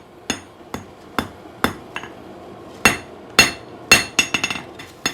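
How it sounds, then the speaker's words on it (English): A hammer strikes a hot steel carving knife blade on an anvil while forging the bevels, with ringing blows at an irregular pace, spaced at first then coming faster in a cluster of quicker hits, loud and close. "And then I'm forging the bevels in."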